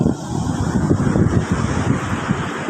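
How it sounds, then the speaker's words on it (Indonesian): Strong wind buffets the microphone over a rough, churning roar of large waves at a beach in South Cianjur, Indonesia, loud and continuous with no voices. "Ombaknya besar, angin agak kencang."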